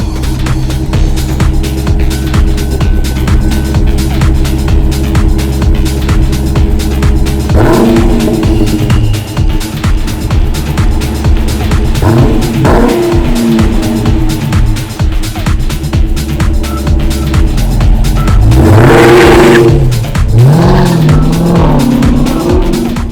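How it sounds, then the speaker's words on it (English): A Dodge Daytona 392 Hammer SRT driven in snow: a continuous low engine drone punctuated by three louder revving bursts, with the loudest sharp surge near the end, and no talk. "Daytona 392 Hammer SRT"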